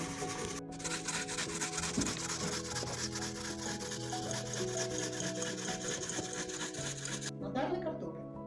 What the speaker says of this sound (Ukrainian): Натираємо картоплю на терці.